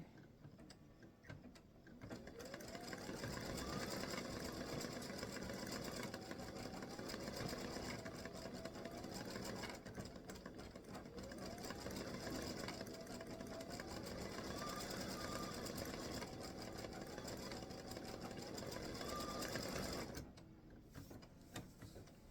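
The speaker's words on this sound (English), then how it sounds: "we're going to stitch the black center" Embroidery sewing machine stitching the black center of a free-standing lace hibiscus flower earring with black thread, a loud, steady, rapid mechanical whir with rising and falling pitch sweeps that runs almost the whole time before stopping near the end.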